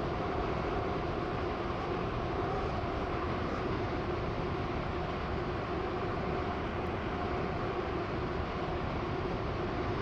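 Steady rumble of a train running on a Roblox Stepford County Railway Connect Line service, a continuous broadband drone that holds level throughout with no talk.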